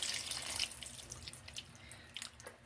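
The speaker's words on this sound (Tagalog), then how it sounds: "Syempre, maglagay din po tayo ng tubig." Water runs steadily into a pot of salmon head sinigang with tomatoes, a soft continuous pouring and splashing that holds through the whole stretch, with faint drips near the end.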